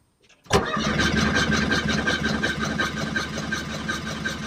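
A Ford ST170 engine fitted in a Mk1 Ford Escort cranks steadily on the starter after a click, a fast rhythmic churning that carries on without catching, close and loud with no talk.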